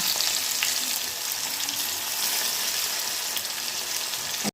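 Stuffed bitter gourd fries in hot oil in an iron pan, giving a steady, close, dense sizzle and crackle that holds even throughout, with no talking.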